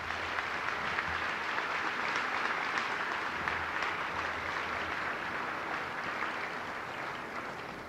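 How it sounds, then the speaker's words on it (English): Applause from a crowd at a 1995 high school senior class event, a warm, steady wash of clapping heard at a modest distance that eases slightly toward the end. "let's give her another warm round of applause"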